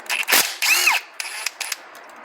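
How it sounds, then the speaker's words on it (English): Bolts coming out of a Hyundai Kia automatic transmission valve body, with several short metallic clicks and a ratcheting rasp at close range, separated by brief pauses. "And we're just going to take all those bolts out right around the outside."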